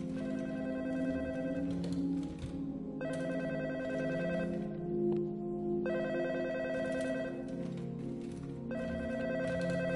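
Telephone ringing in the Back Then video game, a repeating electronic ring in regular bursts with short pauses, steady and fairly loud throughout with no talk.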